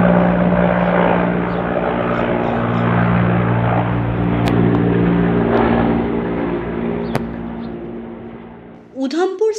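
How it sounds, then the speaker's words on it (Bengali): A helicopter flies overhead outside a railway station waiting room, its rotor and engine a loud, steady drone that slowly fades, ending with a few sharp nearby noises. "আওয়াজটা শুনে বাইরে এসে দেখি আকাশের বুক ছেড়ে উড়ে যাচ্ছে হেলিকপ্টার"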